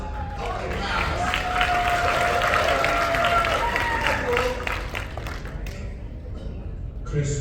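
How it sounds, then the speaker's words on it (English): A convention crowd at a C2E2 panel claps and cheers in a dense, sustained roar that swells, holds loud, then thins out toward the end. Voices and a whistle-like tone ride over the noise. "A round of applause. Up the house."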